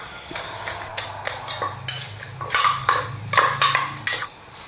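A Thai pounded salad with green beans and pork sausage is worked in a mortar: about a dozen sharp, uneven pestle knocks with clattery, ringing hits, close and clear, with no talking.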